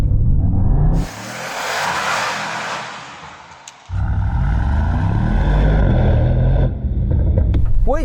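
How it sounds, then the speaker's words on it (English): Mercedes-AMG GT 63 S E-Performance, a hybrid V8, accelerating hard: a loud, close engine roar that dips briefly mid-run, then surges again with rising gear-change sweeps toward the end, no talk. "See if you can hear it when I accelerate. Do you notice that? Electric V8."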